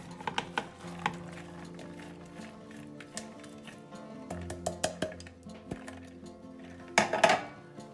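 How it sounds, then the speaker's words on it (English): Corn kernels cut from three ears tip into a cooking pot for sweet corn ice cream, making small clicks and clinks at close range with soft taps over quiet kitchen ambience and a louder rattling spill near the end. "We're gonna put all those kernels in from the 3 ears"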